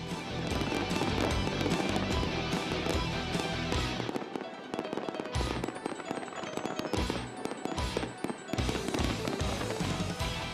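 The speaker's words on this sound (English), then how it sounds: "one of the most premier holiday lights and fireworks shows on the East Coast" A holiday fireworks show at the Hollydazzle festival in Newport News City Center keeps up loud, continuous crackling bursts and booms, with a short lull partway through before the barrage resumes.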